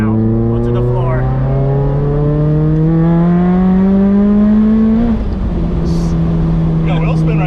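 A nitrous-equipped Mazda Miata is floored at full throttle, its engine note climbing steadily in pitch as it accelerates hard, then dipping at a gear change before pulling on again, loud and close.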